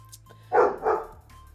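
A dog gives two quick close barks in a row, loud against a quiet room with a faint hum.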